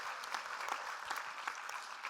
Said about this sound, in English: which we just have to clap for